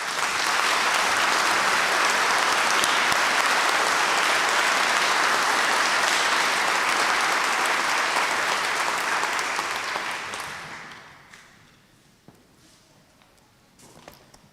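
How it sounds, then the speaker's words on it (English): A graduation ceremony audience applauds in a large hall, a dense sustained clapping that holds loud for about ten seconds before tapering off into scattered claps and quiet. "You all deserve a huge round of applause."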